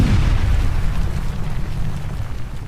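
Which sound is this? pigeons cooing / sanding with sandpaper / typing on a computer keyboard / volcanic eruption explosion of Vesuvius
volcanic eruption explosion of Vesuvius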